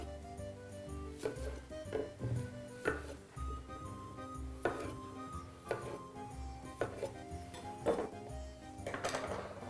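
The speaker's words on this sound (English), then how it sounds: "This is the hardest part of the recipe, is just cutting these potatoes." Baby red potatoes being cut on a board with a knife, producing a series of irregular, fairly close chopping thuds and clinks, with no talking.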